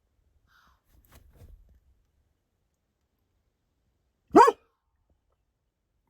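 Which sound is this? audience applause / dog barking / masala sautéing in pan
dog barking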